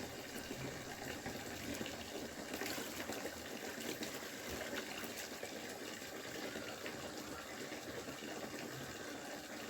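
Clothes being soaked in a tub of water, with a steady, fairly loud wash of running or splashing water that carries on without a break and with no talking.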